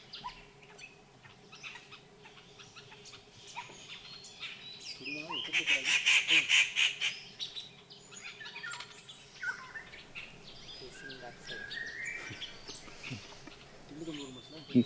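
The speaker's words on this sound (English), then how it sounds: "If you can hear the calls of peacock, it is a short call, like a hoot, whoop." Peacock calls ring out in a tiger reserve forest, a loud burst of repeated short hooting whoops in the middle, set against quieter distant bird sounds and soft background murmurs.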